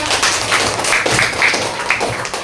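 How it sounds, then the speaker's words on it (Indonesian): Children in a classroom clapping for a classmate's group, a dense patter of quick hand claps at close range that stays steady throughout. "Ayo kasih tepuk tangan buat temannya."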